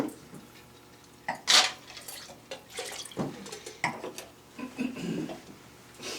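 A little rinse water dumped out of a wine glass, giving a few splashy gushes and trickles with small clinks, close by and with no voices.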